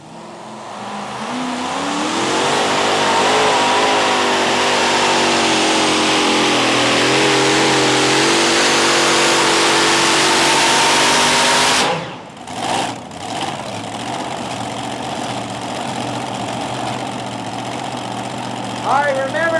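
A three-engine modified pulling tractor roars at full throttle at a 1996 USHRA event in Chapel Hill, Tennessee. The loud, sustained drone climbs as it runs, then cuts off abruptly into crowd noise, with an announcer talking.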